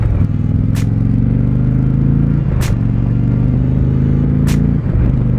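A 2020 Indian Challenger motorcycle cruises on a freeway, its engine giving a steady, loud low rumble with slight pitch shifts between gears, overlaid by rushing wind noise.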